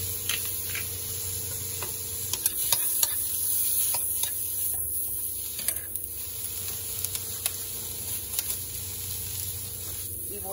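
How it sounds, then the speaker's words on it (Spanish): Shrimp being stirred in a pan with garlic and soy sauce, a steady soft sizzle with scattered light scrapes and ticks of a utensil against the pan, close and fairly quiet. "voy a revolver los camarones con el ajo y dos cucharadas de soya"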